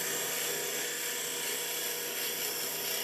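A turning tool cuts wood on a lathe, giving a continuous high whirring, scraping hum at a steady, fairly close level with no talk.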